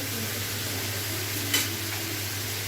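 Chicken sizzles steadily in a hot pan as soy sauce goes in, a constant frying hiss with a brief louder burst of sizzle midway and no talking.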